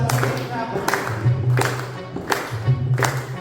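Rhythmic group handclapping along to a devotional bhajan for Shyam Baba, steady bursts roughly every second over a sung melody and harmonium-like drone.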